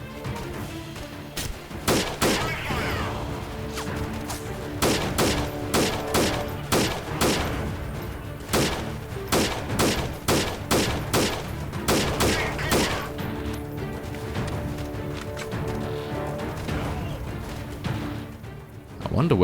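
Gunfire in the game Freeman Guerrilla Warfare, with repeated loud bursts of rifle shots in an irregular rhythm that continue steadily for a long stretch, and a voice talking over the shooting.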